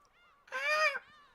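A streamer imitates a seagull with the voice: one loud, strained, nasal squawk lasting about half a second, close to the mic, between quieter vocal sounds.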